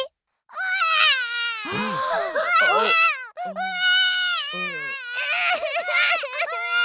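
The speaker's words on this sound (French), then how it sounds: "Les vrais bébés font beaucoup de bruit." An animated baby pig in a Peppa Pig cartoon cries and wails in loud, wavering bursts with whimpering breaks, filling the whole stretch with no plain talk.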